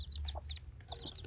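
Newly hatched baby chicks give high, thin peeping chirps in quick bursts, close by, over a low rumbling background.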